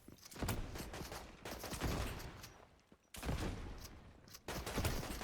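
An improvised grenade launcher fires in the video game Escape the Hood: loud, close bursts of explosive gunfire roll in four heavy waves, each briefly dropping toward silence before the next blast.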